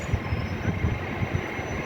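Class 802 passenger train 802301 departing a station, a steady low rumble with rhythmic wheel thumps over the rails and a faint high whine, close and moderately loud, no talk.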